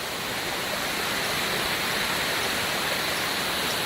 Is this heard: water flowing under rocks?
yes